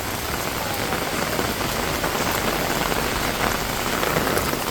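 Heavy rain pours down in Benidorm, a dense, unbroken hiss of drops hammering surfaces close by, loud and constant throughout with no voices.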